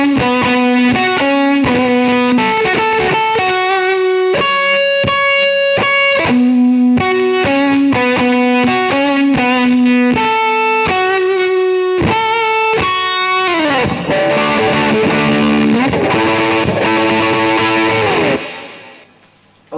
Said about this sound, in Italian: Se andiamo ancora più avanti con il gain otteniamo proprio un suono classico appunto del fuzz, mantenendo sempre quella punta di distorto